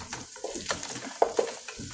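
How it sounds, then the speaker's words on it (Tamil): Spices stirred in hot oil for a South Indian fish curry, a spoon scraping and clinking against the pan in short irregular strokes beneath a faint sizzle. "இப்போ இவங்களை நல்லா எண்ணெயில் கிண்டணும்."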